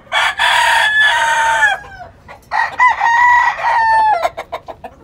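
Giro gamecock roosters on a farm crowing loudly and close, two long cock-a-doodle-doo calls in succession followed by short clucks.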